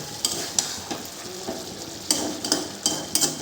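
Chicken stir-fried in a pan until its released water cooks off, with steady sizzling and repeated sharp scrapes and clinks of a spatula stirring against the pan, close and without any talk.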